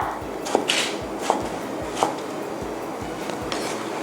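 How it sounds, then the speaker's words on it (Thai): A knife slices through a tomato onto a cutting board, about six soft, evenly spaced cuts in a steady rhythm, close up, while preparing a cucumber and boiled egg salad. "ต่อไปก็จะเป็นมะเขือเทศนะคะ ซอยเช่นเดียวกันค่ะ"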